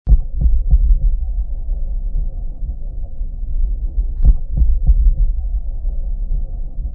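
A deep cinematic rumble from a Soundpaint synth patch, shaped like volcanic activity: a continuous low throbbing drone with a few heavier booming pulses that swell up near the end, alone and steady throughout.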